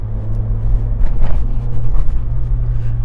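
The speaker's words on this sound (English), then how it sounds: "And there is a speed bump here." A Peugeot 206 rolls over a speed bump with a low, steady engine rumble inside the cabin and a couple of soft thuds from the suspension.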